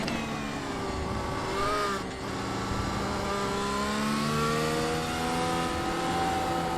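The Mercedes-AMG W13 Formula 1 car in iRacing screams at high revs, its harmonics climbing steadily through gear changes, with a brief dip around two seconds before the loud, continuous engine note keeps rising.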